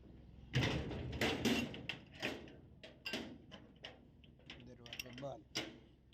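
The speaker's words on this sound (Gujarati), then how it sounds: "ચાલો જલ્દી દરવાજો બંધ કરીએ." A household door being pulled shut and latched before leaving home, giving a close run of clattering mechanical clicks and knocks with a few louder thumps, and faint voices in the background.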